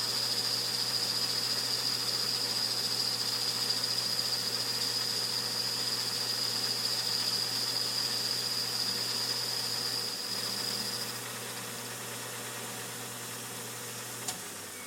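Metal lathe boring a small hole with a boring bar: a steady mechanical hum carries a thin high whine that cuts out near the end, leaving a softer drone.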